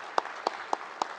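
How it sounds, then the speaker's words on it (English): A handful of slow, isolated claps ring out at a business technology event, four sharp evenly spaced hand claps fairly close and sparse rather than full crowd applause. "Let's give another round of applause for Evan Helper."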